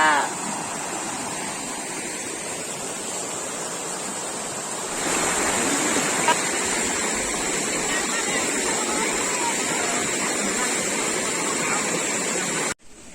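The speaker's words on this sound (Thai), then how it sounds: "ให้ดูความแรงของน้ำนะคะ น้ำแบบไหลเย็นมาก" A strong, fast-flowing forest stream at the Cha-om resort rushes close by, producing a loud, steady broadband roar of water that surges a little louder partway through.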